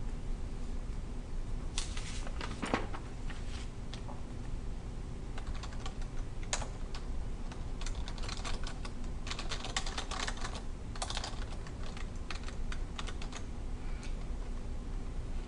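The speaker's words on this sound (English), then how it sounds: "we want to press the Enter key and then type the paragraph that I'm going to show you" Fingers type a paragraph on a computer keyboard in Word, producing continuous close, dry key clicks in uneven bursts with short pauses and the odd heavier keystroke, and no talking.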